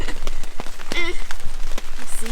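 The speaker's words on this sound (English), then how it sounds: "it's raining a lot." Heavy rain patters steadily on surfaces at a backcountry island canoe campsite, a dense close drumming broken by occasional sharper drops, with voices briefly audible underneath.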